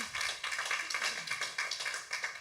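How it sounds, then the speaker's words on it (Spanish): Rhythmic clapping from a church congregation, a series of regular, fairly quiet claps in a steady beat, sounding like a small group clapping in unison rather than a full ovation. "Entonces yo quiero que le demos un fuerte aplauso a nuestro hermano Darwin."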